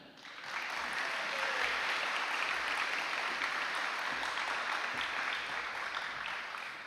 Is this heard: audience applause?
yes